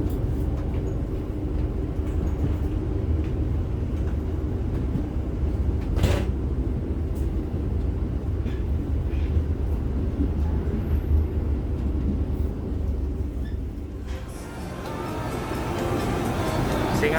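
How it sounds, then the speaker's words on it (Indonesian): From inside the executive car of the Singasari train running Solo to Jakarta in Indonesia, a deep continuous rumble of rolling wheels carries on as another train passes alongside, with a brief sharp knock and a shift in the roar near the end. "papasan kereta apa?"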